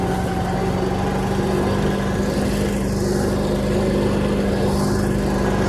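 A tractor-driven flail mower works through a maize field, a loud continuous droning engine with a steady mechanical hum and no voices.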